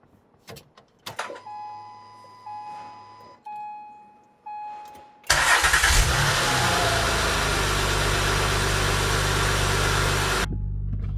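A few short tones and clicks, then the rebuilt engine of a 2008 Acura MDX cranks and catches, settling into a loud, steady idle close by that runs to the end.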